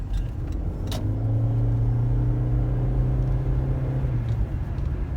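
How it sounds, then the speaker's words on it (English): A Toyota Prius Prime pulls hard under acceleration, its low engine drone rising and holding steady at a loud, close level for several seconds inside the car, with no talking. "Let this car get ahead of me a little bit and punch it"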